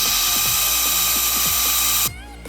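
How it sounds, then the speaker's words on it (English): A power drill whines steadily with a high-pitched grinding hum while drilling a hole through a bolt, repeated small catches as the bit bites, then cuts off near the end. "drilling a hole in this bolt so we can maybe put the throttle cable through it"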